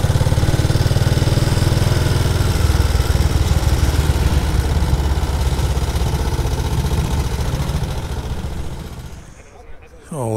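Classic motorcycles, including BSAs, rumble loudly nearby at a steady throbbing idle as they are ridden into a garage, then the engine sound cuts and fades near the end.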